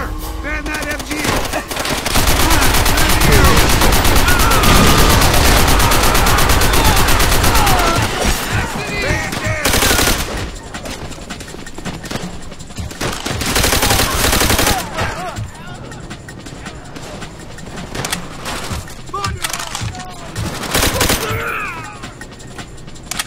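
Sustained machine gun fire in Call of Duty: World at War, a dense, loud stream of automatic shots with sharp bursts and booms throughout a battle scene, with voices shouting at times amid the gunfire.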